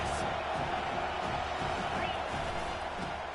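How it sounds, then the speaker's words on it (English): Football stadium crowd roaring loudly and steadily on a third down, a dense, sustained wall of cheering noise without letup. "Third down, and this crowd is tearing the lid off this place."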